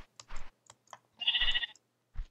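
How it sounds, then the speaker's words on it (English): Sheep bleats from a survival video game, two or three short bursts in quick succession with a longer wavering bleat in the middle, mixed with faint clicks and game noises. "Another sheep?"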